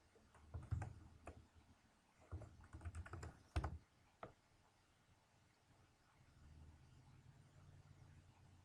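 Username and password are tapped out on a computer keyboard in quiet bursts of quick plastic key clicks, with pauses between, followed by a faint low hum.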